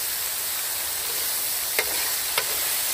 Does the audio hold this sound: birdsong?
no